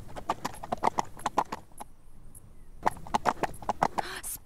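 Horse hooves clip-clop in quick rhythmic runs, with a pause in the middle and then another run, close and clear, from horses in a playful outdoor canyon adventure scene.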